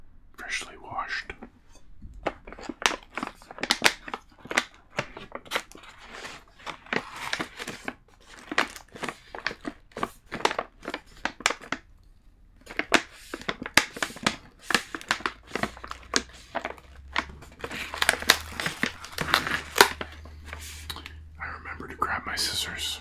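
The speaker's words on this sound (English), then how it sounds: "I like the sound of the packaging" Pretzel packaging crinkled and handled up close in a quiet room, with irregular bursts of crinkling separated by brief pauses and soft whispering in between.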